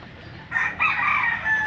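Hens vocalize close by, a drawn-out crowing-type call rising over a quiet background after a brief lull, with harmonic calls continuing to the end.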